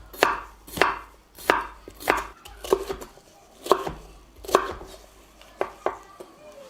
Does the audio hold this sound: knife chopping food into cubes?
yes